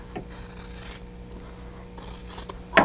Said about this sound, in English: So I'm going to use my scissors again